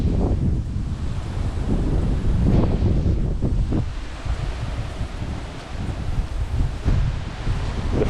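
Strong easterly gusts of Hurricane Ida buffet the microphone in Livingston Parish, Louisiana, a continuous loud roar of wind with surging gusts and no voices.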